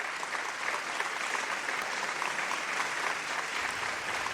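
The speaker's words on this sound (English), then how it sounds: "It is just a very respectful and very reverent clap as the man stands, gives a slight bow," Steady, even applause from a crowd fills the space, a respectful and reverent clapping as a man stands, bows slightly and leaves the stage, moderately distant with no voices over it.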